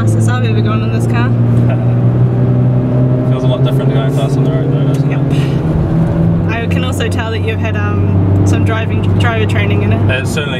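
A car engine drones and revs steadily up close on a race track, sustained throughout, with people talking over the engine noise.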